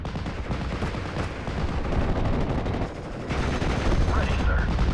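Gunfire from the World War II Normandy strategy game Steel Division Normandy 44: dense, continuous bursts of rifle and machine-gun fire with booming impacts, loud and close, rolling without pause.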